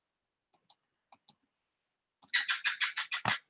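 Soft isolated clicks in pairs, then a quick rapid run of kissy clicking sounds close by, sharp and high-pitched.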